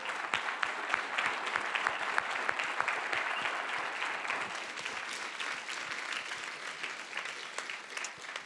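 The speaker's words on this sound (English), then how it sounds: "I think we should give them a round of applause." Conference audience applauding the organizing team at a plenary session, many hands clapping in a steady, even wash that holds for over eight seconds without voices.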